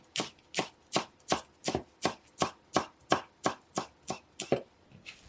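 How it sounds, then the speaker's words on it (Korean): A knife chops perilla leaves into strips on a cutting board, about fourteen crisp, evenly spaced strokes, close and clear with no talk. "깻잎은 반으로 자른 다음 채 썰어주시고요."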